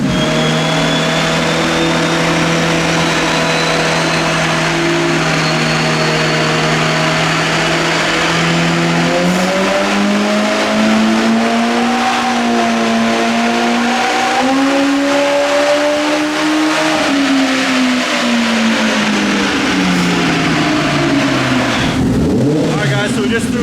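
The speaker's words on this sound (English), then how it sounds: "we're gonna do another pull here from 20 mile an hour to 70" An Ibexx Turbo Pro R engine making a wide-open pull on a dyno, a loud continuous drone climbing steadily in pitch for about twenty seconds before dropping sharply at the end, with a faint whine riding above it.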